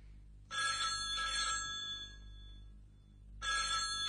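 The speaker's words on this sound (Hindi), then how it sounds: "तेरा फोन।" A telephone ringing indoors in a film scene, a loud bright electronic ring in two bursts separated by a short pause, heard up close.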